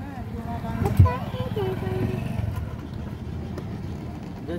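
A motorcycle engine hums and revs nearby as it passes through a district park in Hanumangarh, Rajasthan, with people talking over the mechanical drone.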